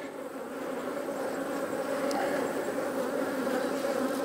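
Honey bees buzzing around an open hive during an inspection before winter, a dense, continuous close-up drone with no voices, holding steady and growing slightly louder.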